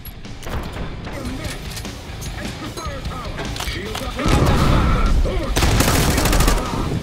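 Shotgun blasts and rapid gunfire in Call of Duty: Black Ops 6 on PC, with dense loud volleys that grow heavier partway through, while voices shout over the shooting.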